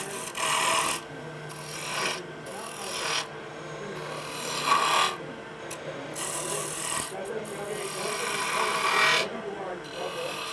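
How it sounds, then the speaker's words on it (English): A spindle gouge cutting a V-cut into spinning wood on a lathe, rough rasping bursts in rhythmic passes with short pauses between, close and fairly loud over the steady machine hum, with a voice talking at times. "I also need a V-cut here, so I have a place to roll this bead into."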